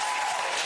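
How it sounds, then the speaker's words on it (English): Audience applause at a political candidate's speech, a brief steady burst of clapping with no voices over it. "Hear the applause"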